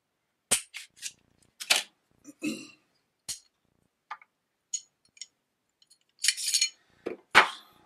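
An unloaded pistol being broken down into its main components: a scattered series of sharp metallic clicks, snaps and slides, close and fairly quiet, separated by silent pauses.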